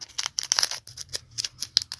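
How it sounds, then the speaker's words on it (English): Scissors snip at a Pokemon card pack in a quick, close run of sharp metallic cuts and crinkles, about a dozen in two seconds, with no talking. "Scissors, where's the scissors?"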